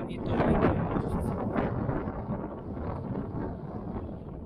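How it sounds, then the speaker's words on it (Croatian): Strong wind buffets a microphone outdoors on a hilltop lookout near Pokojec, a loud continuous rumbling roar that swells and eases over a few seconds with no other sound clearly heard. "Još ćemo testirati vjetar, puše jako."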